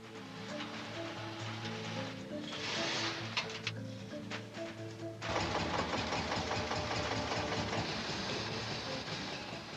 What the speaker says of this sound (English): The restored clutch and cable system works like a dream, and the crane hoists the jib with ease.